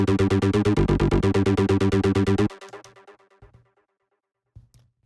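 Unfiltered synth arpeggio, a bright buzzy repeating note pattern pulsing rapidly for about two and a half seconds, then stopping and leaving decaying echoes and a short final blip.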